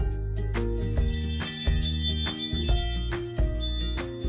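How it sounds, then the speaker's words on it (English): A Ring Chime sounds its motion alert tone, a series of electronic tonal notes stepping through a short repeating pattern, steady and clear with no voices. "and motion alerts sound like this"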